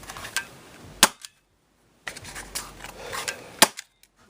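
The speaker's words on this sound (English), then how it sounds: "I've probably already put probably 500 shots through this pistol here at this point right now." An Umarex Rekt OpSix CO2-powered Nerf pistol fires two sharp, loud pops about two and a half seconds apart, each with a brief clatter of handling noise around it.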